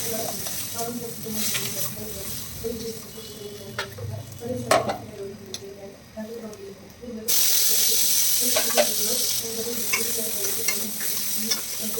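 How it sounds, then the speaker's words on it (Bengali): Potatoes frying in a pan, a steady sizzle with stirring scrapes and occasional clinks, growing louder and brighter partway through, with no talk. "আলুগুলোকে একটু ফ্রাই করে নিচ্ছি"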